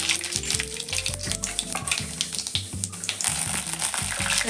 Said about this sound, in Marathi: तेल आता चांगलं तापलं आहे आपलं तेलामध्ये आता मोहरी घातली जिरं घातले